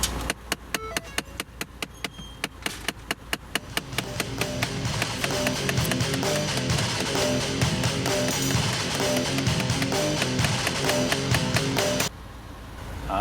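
Repeated ticking from a failing blend door actuator inside a Ford Fiesta ST, a steady run of sharp clicks heard close up. Partway through, a broad cabin hum of the running car rises beneath the ticks.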